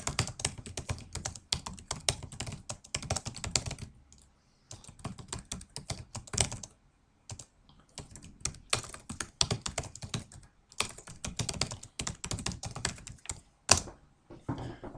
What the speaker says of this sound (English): Now I can continue typing my post.